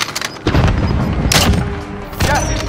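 Sniper gunfire in Call of Duty: Modern Warfare: loud, sharp shots boom out in several bursts with heavy low thuds and echoing tails, close and dominant.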